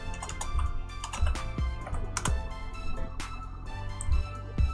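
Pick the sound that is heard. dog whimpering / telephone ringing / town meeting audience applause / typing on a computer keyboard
typing on a computer keyboard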